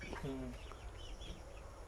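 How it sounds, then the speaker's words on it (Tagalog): Parent-stock chickens on a farm cluck and murmur softly amid a noisy, hissing outdoor background, with a few brief higher calls. "mga parent stock to na manok"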